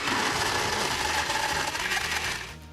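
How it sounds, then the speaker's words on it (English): A blender whirs loudly and steadily, mixing orange juice concentrate, skim milk, vanilla and ice until thick and foamy, then winds down abruptly near the end. "Then you mix it in a blender till thick and foamy."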